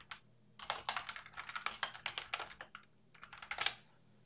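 Close computer keyboard typing in short quick bursts of key clicks, entering a label in software, with a pause midway and no talking.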